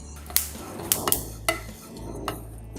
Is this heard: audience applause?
no